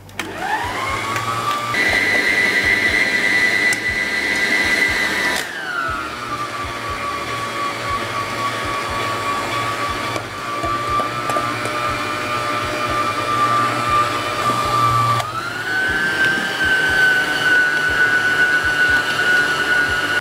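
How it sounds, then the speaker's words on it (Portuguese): An electric stand mixer kneads sweet bread dough with a loud, steady motor whine that shifts pitch as the speed changes. A dull rhythmic churning of the dough runs underneath, and no one talks. "O ponto dessa massa que eu preciso é que na batedeira ela bata e que ela desgrude do fundo por completo"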